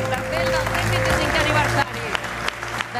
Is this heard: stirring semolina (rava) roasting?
no